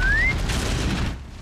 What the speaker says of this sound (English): I tried to whistle it over.